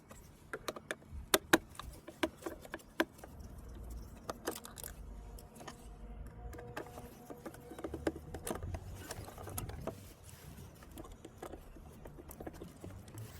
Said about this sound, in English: there are 3 Phillips screws which we can undo